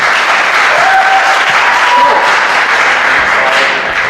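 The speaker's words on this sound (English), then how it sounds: "No clapping, please" Audience applause during a talk on cannabis prohibition: dense, steady clapping from a crowd that holds at a loud, even level for the whole stretch.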